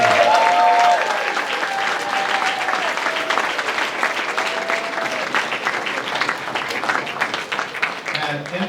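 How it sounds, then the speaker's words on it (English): Loud, sustained applause from a crowd at a solo piping awards ceremony, thanking the organizing committee. Dense clapping runs for several seconds, with faint voices early on and a slight thinning toward the end. "Big round of applause for the organizing committee."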